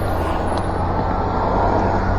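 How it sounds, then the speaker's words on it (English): City bus engine rumbling close by in street traffic in San Bernardino, California, a steady low drone with a short hiss that may be an air brake, heard over wind noise from an electric bike ride. "Is this bus gonna stop?"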